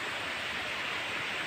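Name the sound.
Phulijharan waterfall water flowing, Kalahandi, Odisha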